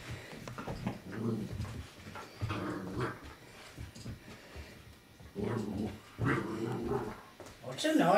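A collie dog growls and whimpers in short bursts close by, its noises mixed with someone talking to it in a home setting.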